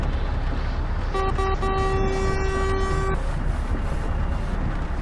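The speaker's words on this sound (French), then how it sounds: "Putain, je klaxonne" Truck horn in Euro Truck Simulator 2 blares in two short bursts followed by one long sustained blast of about two seconds, loud and close over steady engine and road rumble.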